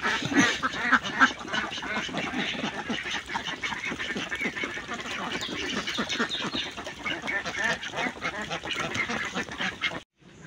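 A large flock of egg-laying ducks at a farm in Patuakhali, Barisal, quacks nonstop in a crowded, overlapping din, loud and close, before cutting off abruptly at the end.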